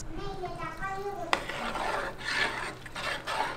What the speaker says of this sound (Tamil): நான் கழுவி ஊற வச்சிருக்க அரிசியை வந்து